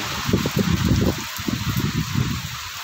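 Rain pouring beside a house with potted grape vines, a constant soft hiss running underneath a string of low, muffled, voice-like rumbles.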